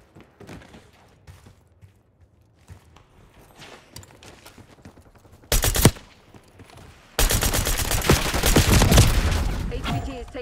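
Call of Duty: Black Ops 6 gunfire on PlayStation 5. Scattered faint shots give way to a loud sharp burst, then sustained rapid automatic fire takes over the last few seconds.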